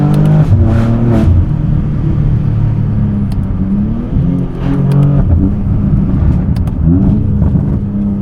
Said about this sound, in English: So this is probably about as loud as you can have the rear exhaust without changing the cats